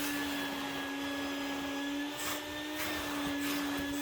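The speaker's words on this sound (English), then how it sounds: "we're going to run over this with a vacuum real quick" A vacuum cleaner runs steadily and close up with a constant motor whine, cleaning carpet fibers inside a BMW E60, with brief scraping bursts as the nozzle moves.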